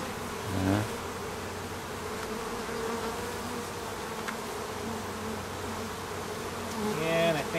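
Honey bees buzz densely and continuously around an open Kenya top bar hive, a close, steady droning hum filling the scene with occasional louder individual bees passing near.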